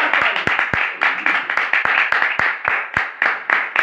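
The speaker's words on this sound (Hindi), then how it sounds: "एक बार जोरदार तालियां।" A church congregation clapping loudly in unison, sharp close claps landing in a fast steady rhythm over a backdrop of scattered applause, with no talking.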